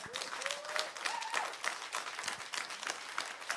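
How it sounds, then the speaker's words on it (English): An audience at a Sunday church service applauds, a dense steady clapping wash for a few seconds with a few faint voices calling out over it. "One more round of applause for LO."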